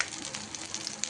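Drumstick leaves frying in oil in a pan, a steady soft sizzle with faint crackles, close and alone without talk.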